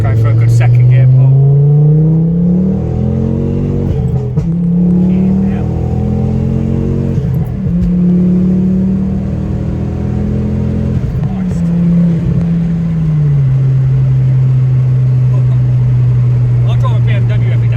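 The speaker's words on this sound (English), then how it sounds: "Let's go for a good second gear pull." A 330 bhp Mk2 Ford Focus ST with a hybrid turbo pulls hard in second gear, its engine note climbing loudly and steadily from inside the cabin, dipping briefly at shifts before rising again, with a voice talking over it.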